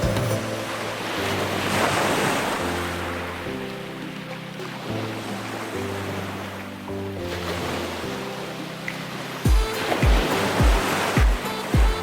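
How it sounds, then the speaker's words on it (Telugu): Sea waves wash onto Pondicherry beach in a continuous roar of surf with wind buffeting the microphone. Near the end, several heavier bumps and splashes come close by. "సీ వేవ్స్ వస్తాయి పోతాయి"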